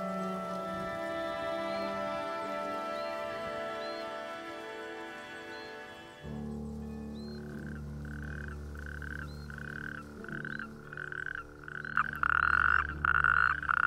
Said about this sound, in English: Not far away, male natterjack toads have begun their evening chorus.